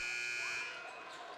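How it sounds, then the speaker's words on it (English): A shot clock buzzer at a high school basketball game blares in one steady, harsh tone lasting about half a second, then fades into gym crowd noise. "A buzzer, but that was for the shot clock"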